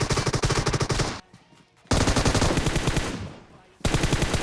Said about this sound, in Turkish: Biri sıkıyor